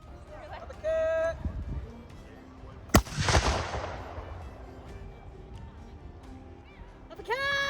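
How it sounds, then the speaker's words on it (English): A leather-covered historic war gun fires once in the grounds of Glastonbury Abbey, a single sharp, loud bang followed by a rumbling decay, with raised voices calling out shortly before and after. "that is how you fire a war gun"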